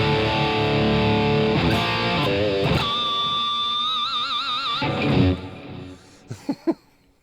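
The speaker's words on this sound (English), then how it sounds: "that's a good old Super Distortion" Electric guitar through a Super Distortion pickup, sustained overdriven chords and held notes with wide vibrato, loud and close, ending in a few sharp picked stabs.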